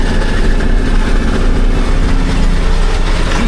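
A tractor engine turning steadily at about 1500 rpm while driving a swather, a loud continuous low drone with mechanical clatter and no pauses.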